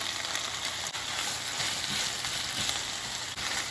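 Steady sizzling and crackling of Black Angus beef frying in a pan with oyster sauce as it is stirred, with a few soft scrapes over a constant bright hiss, close and unbroken.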